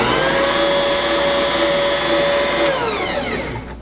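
Electric mixer whirling sugar and yeast in a bowl, a loud steady motor whine held for nearly three seconds and then winding down as it slows to a stop, close and without talking.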